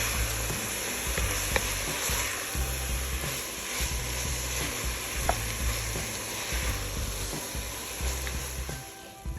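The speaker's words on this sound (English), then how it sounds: "And give that a stir." Minestrone soup ingredients stirred in a pot, a close, continuous sizzle and hiss with soft scraping strokes of the spoon running throughout, no voices.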